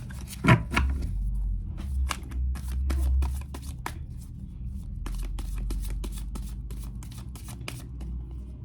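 Cards are shuffled by hand in a run of quick crisp riffles and snaps, close up, with a soft thump near the start.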